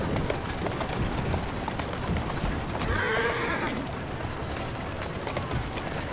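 Horse hooves clip-clop over a steady street ambience in the Victorian London setting of Assassin's Creed Syndicate, with a brief whinny around the middle; the clopping runs continuously and moderately loud throughout.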